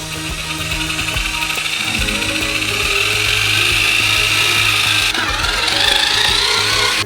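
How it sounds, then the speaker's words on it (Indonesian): A large mixer churns a big batch of sweet dough with the texture of cottage cheese, giving a steady, loud grinding whir that runs continuously throughout, with a slight change in tone toward the end. "Dan sekarang semua ini perlu dicampur dengan mixer besar."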